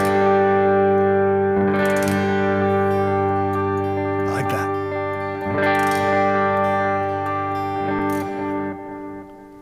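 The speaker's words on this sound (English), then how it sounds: "Ooh, got a little crunch there." An electric guitar holds ringing, slightly gritty chords, re-struck a few times, with lingering echo and a warm, crunchy edge.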